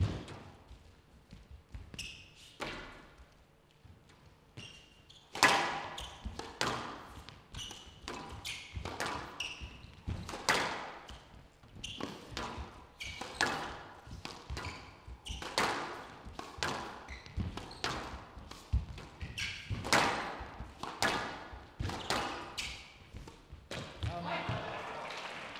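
A professional squash rally between Joel Makin and Hesham at the Qatar Classic 2021, sharp ball strikes against walls and racquets in a quick irregular rhythm, echoing in the court, with commentary talking over it.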